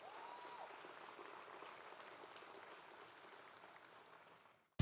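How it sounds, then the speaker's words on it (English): Audience applause at the Houma-Terrebonne Chamber of Commerce banquet, a steady wash of clapping from a crowded room that holds evenly for several seconds and then stops abruptly. "That's worth the applause."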